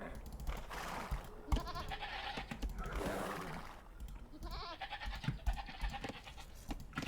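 Sheep bleating in the strategy game Age of Empires, faint wavering calls that repeat a few times over a quiet, busy game soundtrack.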